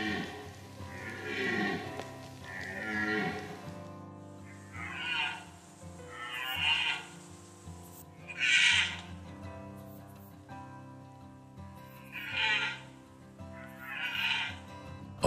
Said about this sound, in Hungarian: A gímszarvasbika ezzel a jellegzetes hanggal jelzi vetélytársainak